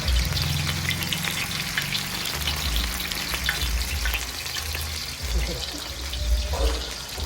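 Masala fish sizzles and fries on a hot tawa griddle at a roadside stall, a loud continuous crackle with stirring and scraping, busy street sounds and voices talking in the background.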